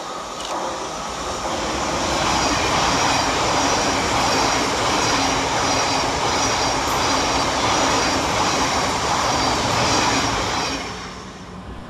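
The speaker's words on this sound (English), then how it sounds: "coming in the opposite direction is 700-145, working 9 Tango 17 for Thameslink from Bedford to Brighton" A Thameslink Class 700 electric train, unit 700-145, running into Anerley station on a Bedford to Brighton service. A loud, continuous rumble and rush swell over the first couple of seconds and hold steady throughout, with no voices.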